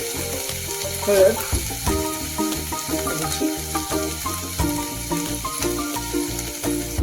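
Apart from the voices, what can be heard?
green peas being sautéed in a pan for usal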